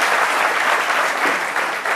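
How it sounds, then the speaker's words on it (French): Loud, dense applause from a studio audience during a French-language talk show, sustained clapping with small surges that stays strong throughout. "des applaudissements"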